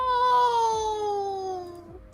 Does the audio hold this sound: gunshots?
no